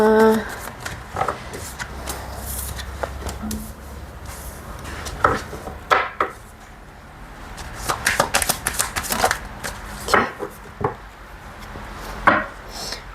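Tarot cards shuffled and gathered by hand, a series of crisp riffling flutters and soft taps, close up, broken by short pauses with some quiet handling in between.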